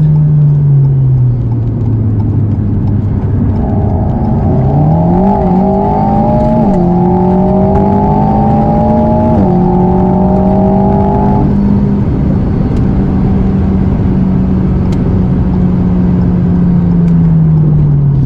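An Alpine A110 S sports car drives a slow cooling lap, its engine note humming steadily and loud from inside, rising and shifting through a few gentle accelerations before easing back down.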